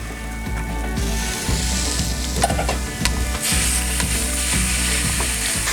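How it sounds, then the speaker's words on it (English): One pound of ground beef sizzles in a pan with softened vegetables, a close steady frying hiss broken by repeated rhythmic clicks and scrapes of a utensil breaking up the meat, with no voices. "now into that I'm going to add 1 pound of ground beef"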